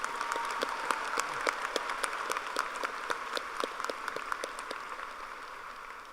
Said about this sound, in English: Please join me in a round of applause for all of our top 10 students